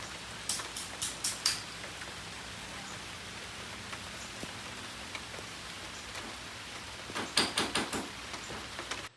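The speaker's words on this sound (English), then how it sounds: "It's raining." Rain falls steadily on a garden during a summer drought, a soft continuous hiss of drops with a few sharper clustered taps near the start and again toward the end.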